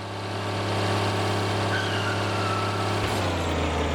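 In the Farming Simulator 13 video game, vehicle engines drone at a steady idle, a constant loud low hum with a faint shift near the end and no talk.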